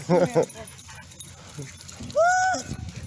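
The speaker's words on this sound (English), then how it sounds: "He would be so excited to see her." An excited dog lets out close, high whimpers and yips in two short bursts, separated by a quieter pause.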